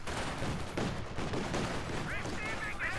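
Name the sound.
T70 tank and gunfire in video game Company of Heroes 2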